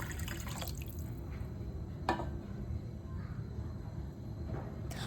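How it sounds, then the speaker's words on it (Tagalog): Water pours steadily into a cooking pot for pancit palabok, a continuous close splashing and trickling stream with a couple of sharp clinks against the pot. "Pagkatapos niyan, maglagay na rin pala tayo ng tubig."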